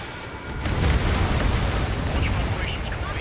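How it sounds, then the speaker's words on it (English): Bombs dropped from a jet fighter in the Ace Combat 7 combat flight game burst into a heavy, sustained rumbling roar of explosions that holds loud across the whole stretch, with a radio voice talking over it. "bombs away"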